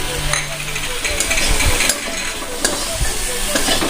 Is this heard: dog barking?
no